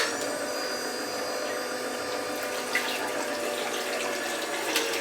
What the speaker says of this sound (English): now I'm going to run some water through it so we can see how clean that gets it